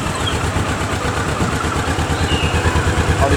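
A motorcycle with its original exhaust idles steadily at close range, a low rumbling pulse that holds even throughout with no revving.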